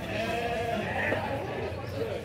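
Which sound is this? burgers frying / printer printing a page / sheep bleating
sheep bleating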